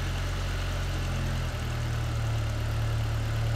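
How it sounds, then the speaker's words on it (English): A 2005 Skoda Octavia 1.8T 20V vRS engine with a lean-running bad idle, treated with brake cleaner, drones at idle up close. Partway through, the low hum shifts and then settles into a steadier, smoother tone. "And the engine smooths out."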